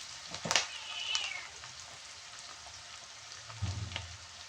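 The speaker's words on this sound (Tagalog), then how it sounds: "Hintayin natin ng 1 minuto mga kalinlit na maluto yung ating onion." Onions frying in a pan give a steady, soft sizzle throughout, with a couple of brief louder clinks and a low rumble near the end.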